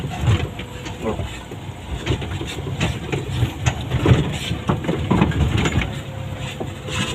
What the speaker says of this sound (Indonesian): Mesin masih hidup nih